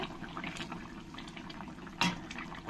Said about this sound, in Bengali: আমার জলটাও ভালো করে ফুটে গেছে